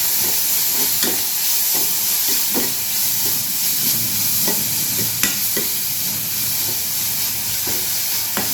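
Onions sautéing in a pan for veg momos, a steady broad sizzle throughout with scattered soft stirring scrapes and clicks, close and alone without talk.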